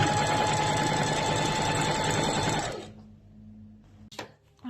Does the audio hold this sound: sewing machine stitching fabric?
yes